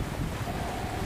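Strong wind and rough surf roar steadily at the Lagi harbour mouth in Vietnam, with gusts of force six; a dense, continuous broadband rush of wind and waves with no voices.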